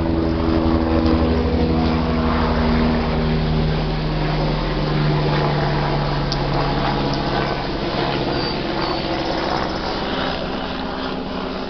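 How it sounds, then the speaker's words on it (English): A helicopter drones steadily overhead with a low rotor hum and engine whine, holding loud and fairly constant before easing off slightly toward the end. "let this helicopter go by real fast"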